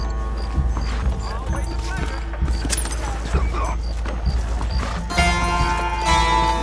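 Horse hooves clip-clopping in Red Dead Redemption, a regular trotting beat of hoof strikes under game music and other effects, with people shouting over it.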